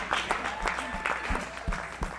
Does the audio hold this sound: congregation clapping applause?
yes